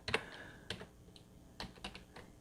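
Keys clack on a computer keyboard as a command is typed during Raspberry Pi setup: a handful of separate, close keystrokes with short gaps between them, with no one speaking.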